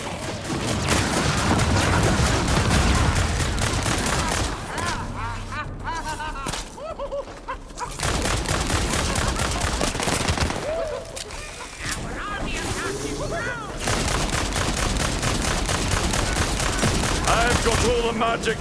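Gunfire fills a battle in the video game Tiny Tina's Wonderlands, dense bursts of rapid shots with brief lulls, loud and close, mixed with other game effects.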